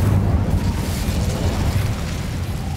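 Incendio fire spell cast in the Hogwarts Legacy video game, a loud sustained rumbling whoosh of flame with heavy low boom lasting the whole moment, no talk over it.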